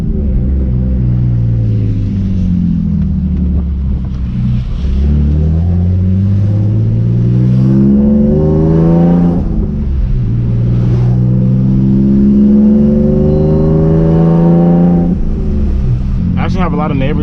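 A BMW E46 street drifting in the rain, its engine revving hard and continuously with rising and falling pitch sweeps, loud and close throughout, with a sharp burst near the end.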